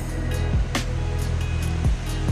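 Water pours continuously at a waterfall in Nilo Dingin village in Jambi's Merangin forest, a steady broadband rush near the listener, with brief whooshing passes of wind or handling over it.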